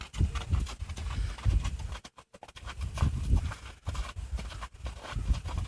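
Steady clip-clop of a horse's hooves walking at an even pace, close by, with a brief pause partway through.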